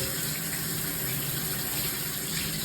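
Water spraying and running steadily down protected glass in a shower, a continuous close hiss and gush with no pauses.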